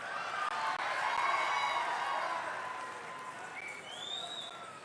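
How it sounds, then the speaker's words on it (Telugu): An audience at a national cultural festival applauds, a dense wash of clapping that swells early and then gradually fades away. "ఓన్లీ సోమ వీర్రాజుకు మాత్రమే చప్పట్లు కొడుతున్నారు ఇక్కడ"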